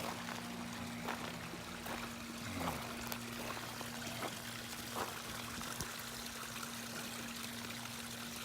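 Water pours and trickles steadily into a garden pond in winter, a soft continuous flow heard at low level with a faint hum beneath it and no voices.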